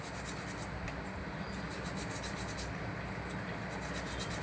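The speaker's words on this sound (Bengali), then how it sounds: "এখন দুটো একসঙ্গে ধরেছি, ভালো করে এইভাবে ঘষে নিচ্ছি" Two conch shell bangles are rubbed hard against each other while being cleaned, a close, steady scratchy scraping with faint rhythmic pulses running throughout, no voices.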